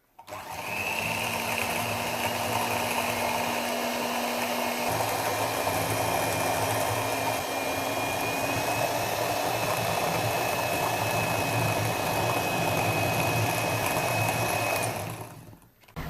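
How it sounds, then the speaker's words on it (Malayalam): An electric beater whirs steadily as it mixes cake batter, a continuous motor drone with a slight rising whine that holds for about fifteen seconds before cutting off. No voices are heard. "അപ്പോൾ ശരി, നമുക്കിത് ബീറ്റ് ചെയ്തെടുക്കാം."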